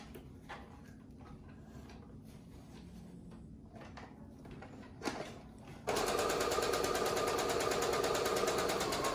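Sewing machine stitching a breathable fabric face mask, starting abruptly after quiet handling sounds and then running in a steady, fast mechanical whir that sits close and alone.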